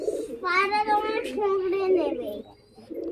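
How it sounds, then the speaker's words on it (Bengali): Pigeons held in a home give soft, throaty coos close by, mixed in with people talking. "সব পায়রা কেমন ধরে রেখেছে"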